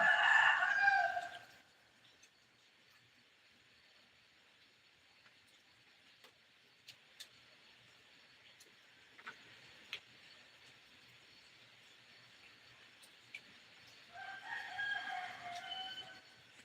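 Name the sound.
rooster crowing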